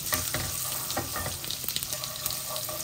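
Dry spices fry in hot oil until reddish, a close steady sizzle broken by repeated stirring scrapes of a spatula in the pan.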